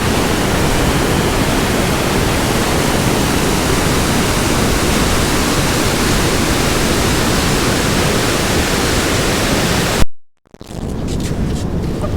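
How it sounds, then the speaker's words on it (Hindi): Water rushes at high speed through Jinnah Barrage, throwing spray into the air as a loud, constant roar. It cuts off abruptly near the end, leaving a much quieter background. "बड़ी स्पीड के साथ पानी जो है वो आ रहा है।"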